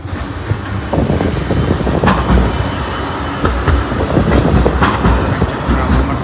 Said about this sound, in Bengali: এই যে এখান থেকে একটা ট্রাম যাচ্ছে ট্রাম আছে ব্ল্যাক পুলের ট্রাম